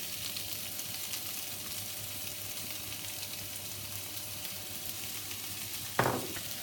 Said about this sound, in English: add your chopped bacon and fry that off for a few minutes too